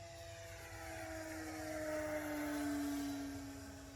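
An RC 3D biplane makes a full-speed pass, its motor buzzing with a faint, rising and falling whine that swells toward the middle and eases off, heard at a distance with no talking.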